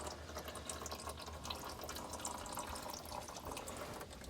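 Transfer case fluid, red automatic transmission fluid, draining from a fourth-generation Ram 2500 Cummins single cab, a steady close trickle and splash of liquid running continuously and alone, without talk.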